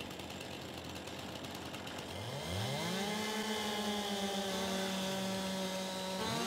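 A chainsaw cuts timber during logging in Farming Simulator 22. Its engine idles, then revs up loudly around the midpoint and holds a steady, rising and falling whine to the end, with no talking.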